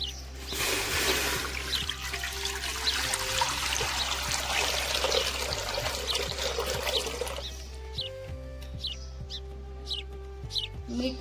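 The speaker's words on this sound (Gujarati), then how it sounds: "તેમાં પાણી ઉમેરીએ" Water poured into a cooking pot at an outdoor village kitchen while making masala rice, a steady splashing pour lasting about seven seconds before stopping, with birds chirping and a rooster in the background.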